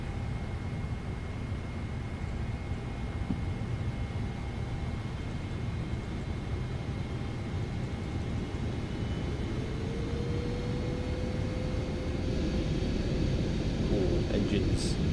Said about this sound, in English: Ooh, engines.